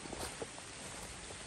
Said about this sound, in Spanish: Oh, ya empezó a llover más.